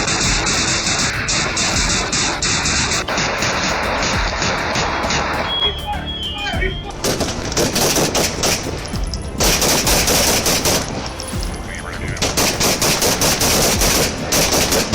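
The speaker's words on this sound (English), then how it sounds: "Police came under fire as they arrived. They returned shots and Roberts went down." Police and a shooter armed with a shotgun trade gunfire at a burning house, with dense rapid bursts of shots rattling loudly and continuously in overlapping volleys, with a short lull midway.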